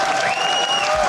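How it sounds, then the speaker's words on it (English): A group claps and cheers briefly on a gaming podcast, a loud burst of applause that fills the moment alone, without talk over it. "Claps for Zach"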